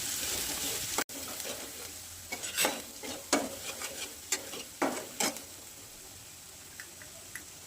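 Ground coconut and chili paste hits hot tempering oil in a pan, giving a faint steady sizzle with scattered soft stirring scrapes and clicks of a spoon.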